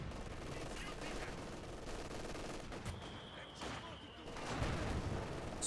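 Gunfire in the WWII strategy game Company of Heroes 2, with rattling machine-gun bursts and scattered shots rolling through a busy battlefield din, heard fairly faint and continuous.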